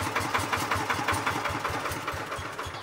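Kubota S series diesel engine idling close by, a steady rhythmic chugging with regular firing pulses, loud and alone.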